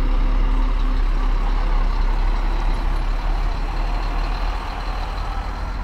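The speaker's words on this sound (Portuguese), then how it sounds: "Viação Cometa com destino a Campinas, horário das 10 da manhã, hein? Passando devagarzinho na sua tela." A Viação Cometa coach bound for Campinas rolls slowly through a bus station, its deep diesel engine rumbling loud and steady, close by, with a faint tonal beep early on.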